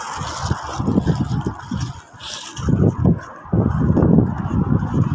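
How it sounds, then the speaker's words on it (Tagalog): Loud honking calls from a flock of geese, overlapping and continuous, with bursts of cackling rising and falling over a rushing outdoor background. "May ibon, no? Dami ibon."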